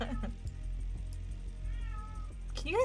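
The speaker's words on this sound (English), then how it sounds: "Can you guys hear my cat?" A pet cat lets out a drawn-out meow in the middle and a sharper, louder meow at the end, close by, with a quiet steady hum and a few soft taps behind it.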